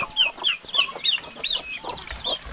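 Hens clucking repeatedly in short bursts, close by, with a steady run of calls over light farmyard background noise on a farm in the Philippine provinces.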